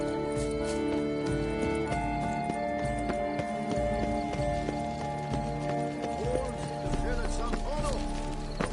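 Horse hooves clip-clop steadily in The Witcher video game, joined by occasional whinnies, over a layer of game music and character voices talking.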